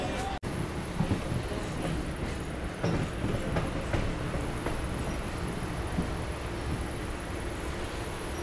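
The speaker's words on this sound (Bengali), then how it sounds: "তো আমাদের ট্রেনটা কিন্তু এখন চলে যাচ্ছে মাঝেরহাটের উদ্দেশ্যে।" Local train running from Prince Ghat toward Majerhat, a steady rumbling ride with rail clatter throughout, fairly close and continuous.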